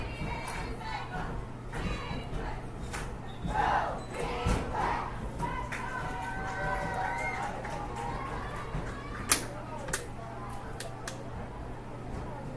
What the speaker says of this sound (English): the Hayti cheerleaders trying to get the crowd a little into it